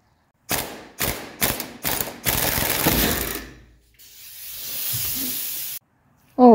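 A ratchet works the top shock absorber nuts off a 1985 Mercedes 300SD, with several short close clicking bursts followed by a longer steady run of rapid clicking, then a softer airy hiss.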